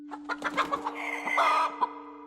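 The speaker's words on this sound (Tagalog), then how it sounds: "itong mga alaga kong manok puntodo kong bantayan eh" Pet chickens and roosters kept at a provincial home in the Philippines cluck in a quick run of sharp bursts, then break into a longer squawking crow-like call, close and fairly loud over a steady low hum.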